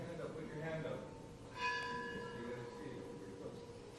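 An electronic bell chime marking the end of a class rings once, brief and moderately faint, over a quiet room with a low murmur.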